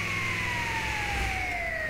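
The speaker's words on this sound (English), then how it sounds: "I just had to turn that siren off" A video game emergency vehicle siren on a Mercedes Sprinter wails continuously with a slowly falling pitch, loud and close, over a low engine rumble.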